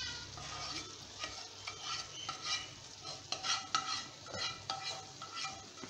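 A spoon stirs tomato, onion and garlic gravy into mixed vegetables in a pan, giving a continuous scraping, squelching stir over a soft sizzle with no talking.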